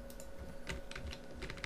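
Rapid computer keyboard typing, a dense run of light key clicks heard close up and fairly quiet over a steady low hum, with no voices.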